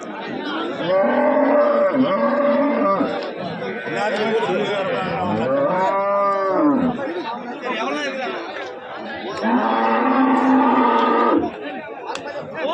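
Cattle low repeatedly at a busy livestock market in Erode, long drawn moos rising and falling close by while a crowd chatters and voices talk throughout.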